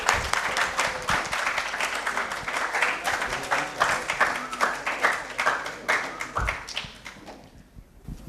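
Audience applause at a workshop hall, a dense steady clapping from a crowd that carries on for several seconds and fades toward the end, with no talk over it.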